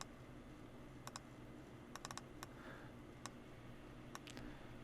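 Computer keyboard keys are tapped while MIDI notes are edited in Ableton, giving faint, close clicks in small clusters of two to four over a low hum.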